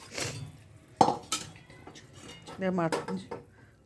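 Fried bhetki fish is shifted from a pan into a bowl, with clattering metal utensils, scraping and clinks of cookware, a sharp knock partway through and some quiet voice underneath.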